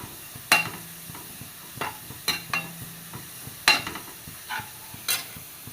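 Vegetables and a little fennel seed sautéing in a pan hiss steadily while a spatula scrapes and knocks against the metal in repeated sharp strokes, close and without talk.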